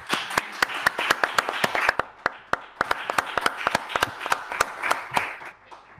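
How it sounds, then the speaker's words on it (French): Audience applause after a lecture on ecological humanism, a scattered round of individual hand claps, fairly close and distinct, rising then thinning out over several seconds with no talk. "J'espère que vous avez entendu les applaudissements."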